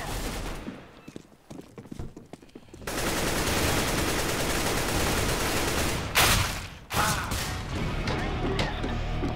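Rapid automatic gunfire from Counter-Strike: Global Offensive erupts after a few scattered shots, forming a loud, dense continuous burst with brief breaks and a couple of sharp impacts.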